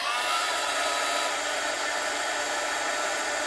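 A heat gun blows a steady, loud, whooshing roar at close range, melting glue on the lid of a cowboy-themed junk journal, unbroken from start to finish.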